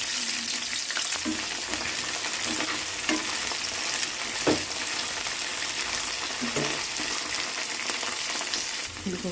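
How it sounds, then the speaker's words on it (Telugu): Mustard seeds and cumin fry in hot oil in a pan while beans are being cooked, a continuous close sizzle with scattered pops and crackles running steadily throughout. "ఆవాలు జీరా వేసాను. ఆవాలు జీలకర్ర వేసానండి. ఇది ఫ్రై కావాలండి."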